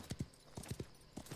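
Horse hooves clip-clop in a video game, several quick paired hoofbeats in an even trotting rhythm, close and clear with no speech over them.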